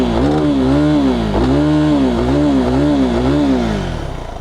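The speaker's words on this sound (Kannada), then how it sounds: "ಫಸ್ಟು ನಿಮಗೆ ಒಂದು ಸಲ ನಾನು ಗಾಡಿದು ಎಕ್ಸಾಸ್ಟ್ ನೋಟ್ ಕೇಳಿಸ್ತೀನಿ" Exhaust of a 2025 KTM Adventure 390 motorcycle idling and blipped, a loud, close, steady single-cylinder thrum with rhythmic rises and falls in pitch, tapering slightly at the end.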